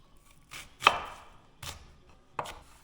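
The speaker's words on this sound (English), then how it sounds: "Okay, so I want my onion to be about the same. Okay, so just" Knife dicing onion on a cutting board for leftover Thanksgiving turkey soup, four sharp chops spaced unevenly, fairly close and clear with no talking.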